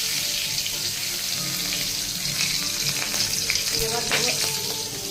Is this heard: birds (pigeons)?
no